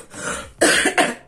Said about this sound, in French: Il tousse encore comme un état grippal.